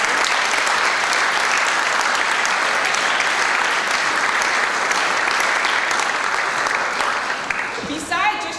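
Loud, sustained applause from a large crowd of athletes' families and coaches fills the space, dense clapping that continues steadily before tapering near the end.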